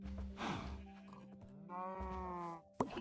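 A Minecraft cow lets out a bleating, moo-like call in the middle, set against a steady backdrop of soft game music.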